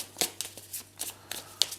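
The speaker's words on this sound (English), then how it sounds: "You'll need these cards and shuffle them" Playing cards for the Deep Sea Adventure board game shuffled by hand, a quick run of crisp papery riffles and flicks in short bursts, close and quiet with no talking.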